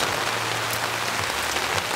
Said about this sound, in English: It's fucking raining balls.